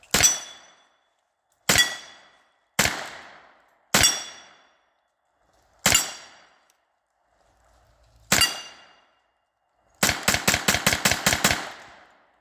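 A Thompson submachine gun with a stick magazine fires six separate loud semi-automatic shots at uneven intervals, each followed by a ringing decay. A rapid string of about eight shots follows at the end.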